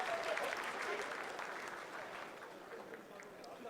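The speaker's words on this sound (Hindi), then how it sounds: "Lot of applause indicates that till now the performance has been nominal." Steady, fairly distant applause from an audience watching the Chandrayaan-3 lunar landing broadcast, a continuous wash of clapping throughout.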